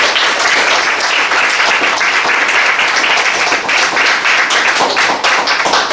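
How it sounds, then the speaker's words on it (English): An audience at a poetry and painting show at Foy House claps for the painter and writer Simon Occulis, a dense, steady round of applause sustained throughout at close range. "So a big round of applause for Simon."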